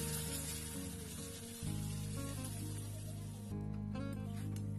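Fish heads frying with spices in a pan for moong dal, a steady loud sizzle that continues throughout with a brief shift partway as the food is stirred or moved.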